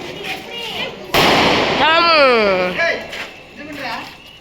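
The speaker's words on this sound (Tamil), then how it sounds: "கையால வெடி போடுறாங்கப்பா" A Diwali firecracker set off by hand bursts with a sharp loud crack amid nearby chatter, followed by a whistling, warbling tone and more voices.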